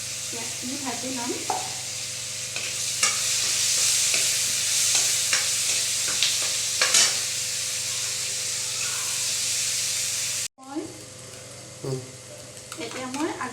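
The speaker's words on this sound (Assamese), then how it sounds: "পিঁয়াজখিনি ভাজি ল'ম।" Onions fry in hot oil with panch phoron and small bay leaves in a pan. A steady sizzle runs under the scrape and clack of stirring.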